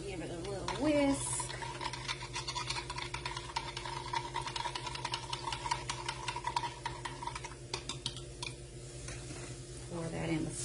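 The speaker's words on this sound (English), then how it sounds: "Give it a little whisk." A whisk clatters rapidly and steadily against a container as vegetable bouillon base is stirred into two cups of warm water for vegan gravy, a continuous ticking scrape with kitchen background noise.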